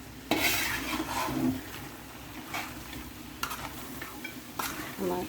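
Steady stirring of a thick goat medicine mixture reducing in a pan, a scraping swish with soft sizzling underneath and a few sharper scrapes against the pan, close and continuous.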